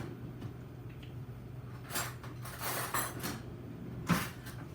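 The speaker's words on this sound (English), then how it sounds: "And I'll give it a little stir." Ricotta cheese stirred in a bowl, soft spoon scrapes and a few faint clinks against the bowl, quiet and close with low background noise.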